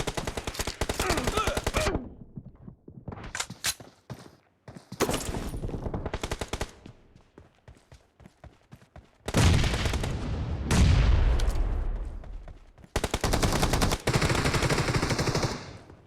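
Bursts of M1014 shotgun fire in a video game, loud and close, with rapid sharp shots clustered in several volleys separated by brief quieter gaps.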